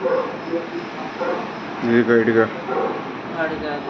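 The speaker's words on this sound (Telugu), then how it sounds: "ఇది వాళ్ళ కుక్క అరుస్తుంది" A dog barking inside an apartment building, with a short burst of barks heard faintly behind people talking.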